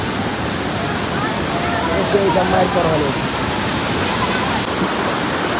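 The Manjhar Kund waterfall in Bihar roars as a loud, steady wash of falling water, with a voice briefly heard over it.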